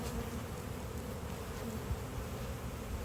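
A dense, steady buzz of many honeybees in an open hive fills the space continuously, close and even, with no pauses or voices.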